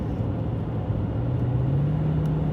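A Toyota Tundra pickup with a 6-speed automatic cruises at highway speed up a desert grade. Its steady low engine drone rises in pitch as the transmission downshifts, under constant road rumble, with no talking.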